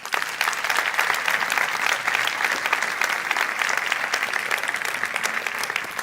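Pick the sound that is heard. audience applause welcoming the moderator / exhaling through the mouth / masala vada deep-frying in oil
audience applause welcoming the moderator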